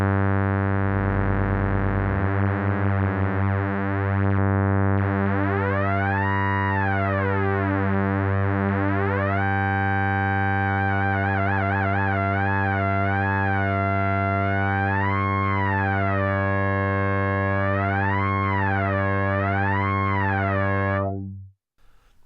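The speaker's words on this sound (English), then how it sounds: "Just modulating with the LFO there." A Behringer Odyssey synthesizer drones a rich, buzzy tone with oscillator sync, its upper harmonics sweeping up and down in slow, wavering LFO-driven waves for about twenty seconds before cutting off abruptly, with no voices.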